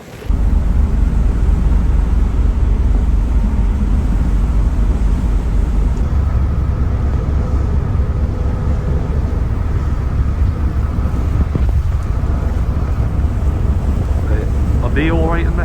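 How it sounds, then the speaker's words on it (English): Strong wind buffets the open deck of an Irish Ferries ship on the Holyhead to Dublin crossing, a loud continuous low roar with gusty microphone rumble throughout, plus a brief faint whistle near the end. "it's windy, you could actually be blowing off."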